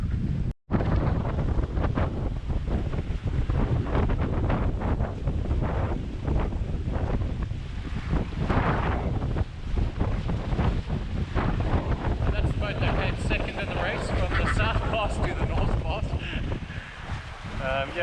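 Steady wind roars over the microphone aboard a Lagoon 40 catamaran under sail during a race against a monohull, a continuous broadband rush through the whole stretch with water and hull noise underneath and a brief dropout near the start.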